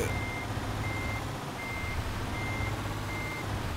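In Euro Truck Simulator, a truck backs up with evenly spaced electronic reversing beeps, about five pulses, over a low engine rumble.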